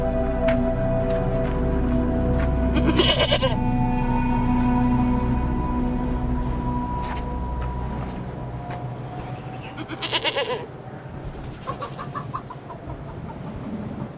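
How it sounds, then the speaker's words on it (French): A goat bleats loudly and close, a couple of wavering calls, with a rooster or other farm animals audible in an outdoor Malian desert village setting. "nous vous offrons cette chèvre en signe de respect et d'entente cordiale"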